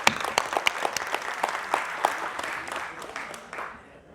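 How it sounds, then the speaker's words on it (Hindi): An audience at a gathering in Asansol, Bengal, applauds visiting participants from Bikaner, Rajasthan, Jharkhand and Bihar. The clapping is crisp and close, with distinct individual claps in a lively patter that gradually thins and fades toward the end. "आप सबके लिए जोरदार तालियां।"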